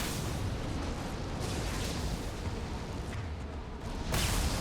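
Dense, continuous gunfire and explosions in Mass Effect Legendary Edition make a thick, rumbling wall of combat noise with frequent bursts and a louder blast near the end, and no voices.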